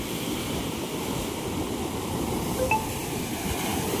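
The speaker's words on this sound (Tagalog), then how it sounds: "Laki ng alon." Heavy storm surf from big ocean waves roars in a continuous broad wash, steady and loud with wind noise mixed in, and no voices.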